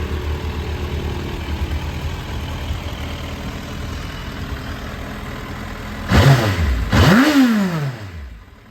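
A 2010 Suzuki GSF 1250 SA Bandit motorcycle idles with a steady, low engine rumble, then near the end the throttle is blipped twice, each rev rising and falling sharply before the engine cuts off.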